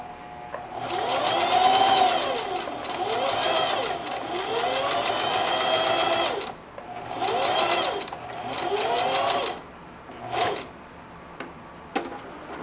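A sewing machine stitches denim in several bursts of rapid needle chatter, each lasting a few seconds and separated by short pauses, close and clear, ending with a few brief taps.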